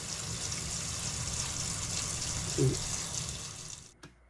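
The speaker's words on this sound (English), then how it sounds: "Soak in warm water." Warm water runs steadily from a kitchen tap while pho ingredients are set to soak, a continuous close splashing rush with a brief bump near the end before it cuts off.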